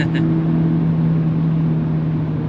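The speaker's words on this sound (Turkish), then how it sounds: "Şu an bir anda 130'a çıktı araç ya." Steady engine drone from inside a Seat Leon FR accelerating hard to 130 km/h, a constant low hum with road and wind noise holding even throughout.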